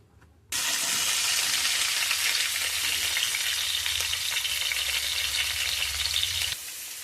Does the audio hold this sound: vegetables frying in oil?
yes